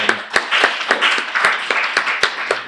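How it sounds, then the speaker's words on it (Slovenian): Audience applause after a talk, a short burst of sharp, fairly close hand claps from a modest crowd, ragged and steady in rhythm. "dajmo en aplavz"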